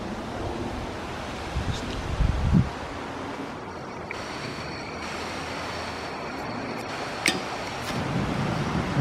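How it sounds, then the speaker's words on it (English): Strong outdoor wind blows steadily as a broadband roar close to the microphone, with low rumbling gusts swelling around the two- and eight-second marks and no talking. "It's really windy out, so I hope this works out."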